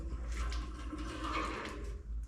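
Water trickling and gurgling through bathroom pipes in an old hotel room, a soft continuous rushing flow, fairly faint and close, with no talk.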